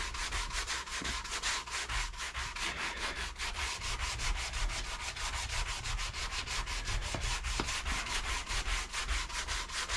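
Sandpaper rubs along the back of an electric guitar neck in fast, even strokes, a close, steady scratchy rasp that keeps going without talk.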